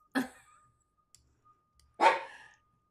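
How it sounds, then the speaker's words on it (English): Two sharp dog barks about two seconds apart, near and fairly loud, with quiet in between. "you can hear Diddy barking in the background"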